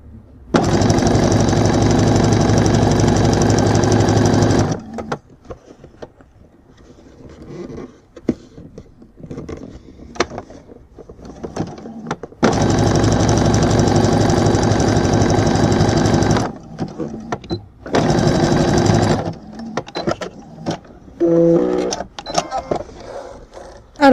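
Sewing machine running a zigzag stitch over elastic laid on the wrong side of fabric for gathers, heard in three steady motor bursts of several seconds each, with quiet handling noises and small clicks in the pauses between runs.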